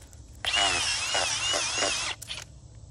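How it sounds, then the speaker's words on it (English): A power drill bores a planting hole in the ground for native wildflower plugs, giving one close, loud, continuous whine lasting about a second and a half before cutting off. "let's pretend that I haven't already drilled this hole"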